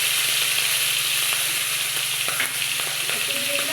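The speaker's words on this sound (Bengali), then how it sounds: "ওই তেলে চিংড়ি মাছটাকে আমি ভেজে নেব।" Shrimp fry in hot oil in a kadai, a loud close hiss with fast crackling spatter and a few small metallic clinks, continuous for a few seconds without speech.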